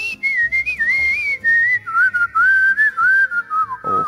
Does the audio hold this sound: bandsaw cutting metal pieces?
no